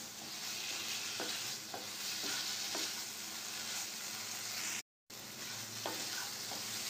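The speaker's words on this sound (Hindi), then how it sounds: "पनीर को भून लिए हैं।" Paneer stir-fried in a pan for patty filling, a soft continuous sizzle with periodic scraping strokes of a spatula, close and quiet, broken once by a brief silence.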